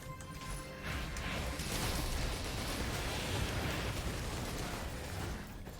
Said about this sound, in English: enemy death explosions are very, very nice